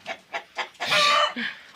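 Several short clucks from hens and roosters, then a loud, drawn-out squawking call and one more cluck, close by with no talking.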